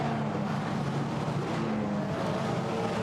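Formula Renault Eurocup race cars at Monza on the start-finish straight make a continuous, fairly distant engine roar that holds steady throughout, with no voices over it.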